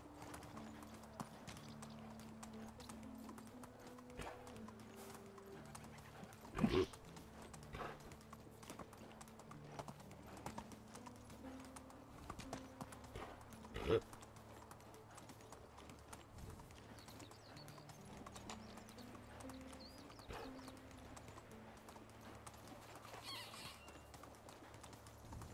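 A horse's hooves clip-clop steadily under a rider in the medieval survival game Medieval Dynasty, a quiet, even rhythm that runs the whole way through with a couple of sharper knocks.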